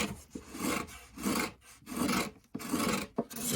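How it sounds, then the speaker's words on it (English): A hand scraper works the curved recurve of a wooden archtop guitar, with rhythmic rasping strokes of about half a second each separated by short pauses, close and clear. "And that's scraping the recurve."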